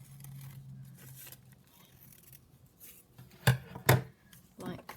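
Scissors snip through fabric, a couple of sharp crisp cuts close up near the end, following quieter handling of cloth, with no one speaking.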